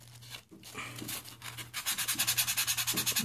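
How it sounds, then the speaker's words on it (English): Folded 400 or 320 grit sandpaper rubbed by hand over a piece of a homemade movie-prop morpher, starting with scattered scratches and settling into a quick rhythmic back-and-forth rasp over a low steady hum. "Take the sandpaper, fold it in half, and then just sand that like that."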